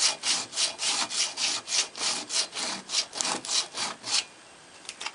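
An abrasive is scrubbed back and forth over the rusty metal of a 1946/47 Sobell 516 vintage tube radio. About a dozen rhythmic, close rasping strokes come in quick succession, then stop abruptly.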